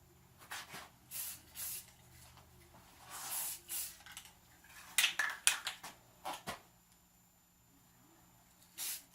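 Short bursts of spray paint misting onto an AR-15 rifle, repeated hissy sprays of varying length separated by pauses, fairly close and clear, with no talking.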